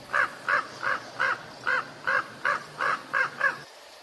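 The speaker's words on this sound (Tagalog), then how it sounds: "Hinahabol ang mga tagak ng mga uwak." Crows caw as they chase egrets, a loud series of about ten evenly spaced harsh calls close by and alone, ending abruptly.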